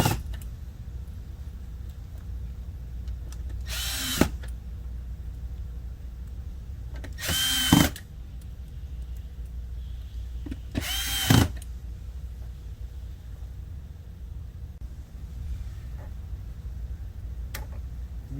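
A power drill driving screws into the rear cover of a medTV16 arm-mounted patient display, three short, loud whirring bursts spaced a few seconds apart against a quiet background hum.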